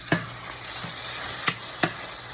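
Vegetables sautéing in a pan for a stir fry: a steady close sizzle with three or four sharp knocks of a utensil against the pan, no talking.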